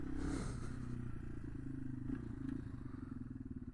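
A 2025 Yamaha TW200 motorcycle being ridden, its low engine drone steady and close with rattling clatter and wind noise throughout, no talking.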